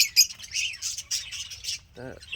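Pet lovebirds in a cage give a run of high, bright chirps and tweets, close and lively, ending with a short voiced sound beneath a low background hum.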